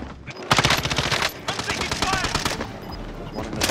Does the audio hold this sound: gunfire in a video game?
yes